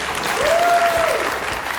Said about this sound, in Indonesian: Sebelah kiri jangan mau kalah.